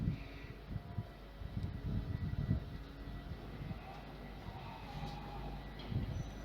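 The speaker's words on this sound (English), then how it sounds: "Oh, those points sound really aggressive." A train rumbles over railway points at a level crossing at night, with rhythmic low clunks and rolling rail noise at moderate distance, steady throughout and without speech.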